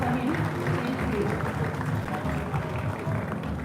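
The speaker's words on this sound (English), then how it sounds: "Please a round of applause for him" A crowd at a political event at a university applauds a former deputy health minister. The clapping is dense and continuous, mixed with a low rumble of crowd noise, and stays steady and fairly loud throughout.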